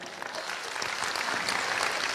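Audience applause fills the room, a steady dense clapping that holds at an even level throughout with no voices standing out.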